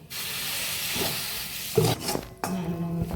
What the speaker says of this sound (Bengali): অল্প একটু জল দিয়ে নাড়াবো।